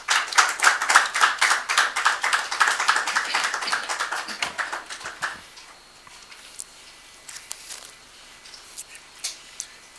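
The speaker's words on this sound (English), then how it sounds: "A round of applause, please." Audience applause welcoming a lecturer at a public lecture series in Ghana: brisk, dense clapping from a crowd for about five seconds, then thinning to a few scattered claps before fading into quiet room tone.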